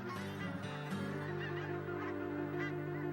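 Geese at a Nebraska rainwater basin wetland honk in a dense, continuous chorus, many calls overlapping from a large flock, steady and fairly distant, with no talk.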